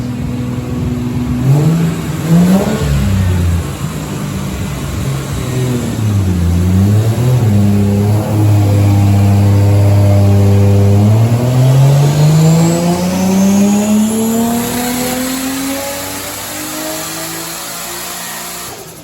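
Lexus IS300 with a single turbo, running on 91 fuel, pulls hard on a dyno. The engine is loud and close, dipping briefly and then climbing steadily through the revs over many seconds before easing off at the end.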